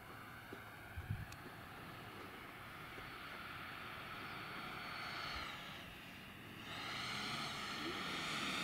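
Yak model airplane flying past at a distance, a steady engine drone that swells and shifts in pitch as it passes, with wind noise underneath.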